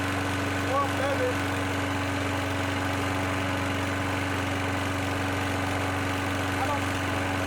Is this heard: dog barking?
no